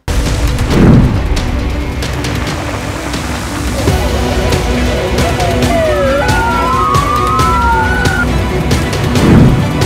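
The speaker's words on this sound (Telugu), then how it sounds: "దేశమంతటా సైరన్లు మోగించింది." Air-raid warning sirens sounding across Israel during Iranian attacks, heard as rising and falling wailing tones in the middle of the clip over a busy outdoor background with a couple of low thumps at the start and end.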